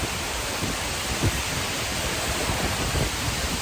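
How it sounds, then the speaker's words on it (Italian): A waterfall heard from right behind it in Iceland gives a dense, steady roar of crashing water that fills the clip without pause. "Letteralmente dietro la cascata."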